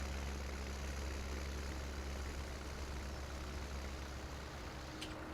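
A tractor engine in the farming game Farming Simulator 17 drones steadily at a low pitch, a constant rumbling hum that runs unbroken from start to finish with no talk.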